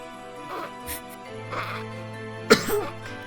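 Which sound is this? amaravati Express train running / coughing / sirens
coughing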